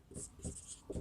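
Chalk or pen writing out a maths equation by hand, three short scratchy strokes in a steady rhythm, close and fairly quiet, with no talking.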